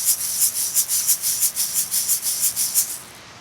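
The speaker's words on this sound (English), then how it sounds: "You could do this with an egg shaker" An egg shaker rattles in a steady, even rhythm, about a dozen crisp shakes in a row before stopping; close and alone, with no voices.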